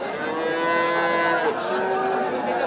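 Young calves at a livestock market in Nilphamari let out long, drawn-out moos that run almost unbroken and sound fairly close, with a second call overlapping toward the end.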